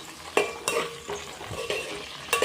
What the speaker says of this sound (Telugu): మధ్య మధ్యలో కలుపుతూ బెండకాయని లైట్గా ఫ్రై చేసుకోండి